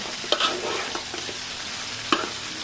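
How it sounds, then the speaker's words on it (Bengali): Potato and koi fish curry with tomato and green chilli stirred and sautéed in a pan, with steady close sizzling, a few sharp spoon scrapes against the pan and a soft frying hiss throughout, no talking. "এখন ভালো করে একটু কষানো হোক"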